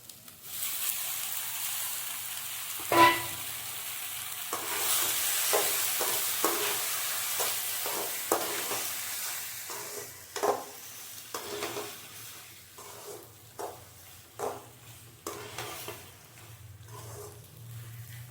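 Pasta being added to a frying pan and stirred, with a steady sizzling hiss broken by a run of scraping, clattering stirring strokes in an uneven rhythm.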